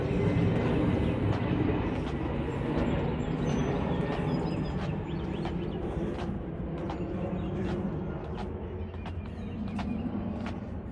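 An airplane in the Islip Airport takeoff pattern passes over gardens on Long Island, a faint, broad distant roar lasting throughout, with scattered bird chirps on top.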